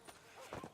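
Horse hooves clip-clop briefly in Red Dead Redemption 2, a few soft uneven steps at close range during a stable scene at a horse dealer, with faint voices around them.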